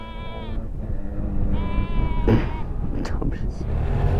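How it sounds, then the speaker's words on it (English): Sheep and lambs bleat on an off-road hillside, several drawn-out calls rising over a steady low motorcycle engine drone, close and loud. "Follow the sheeps."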